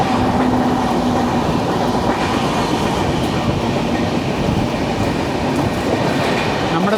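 The Garib Rath Express runs on rails near Iravipuram station toward Kollam, a steady, loud rumble of wheels with faint clickety-clack rhythm heard from inside a coach.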